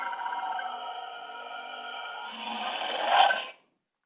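Lightsaber running the Dark Lord Order sound font: a steady buzzing, tonal hum held close and loud, swelling briefly near the end before cutting off abruptly into silence, with no talk.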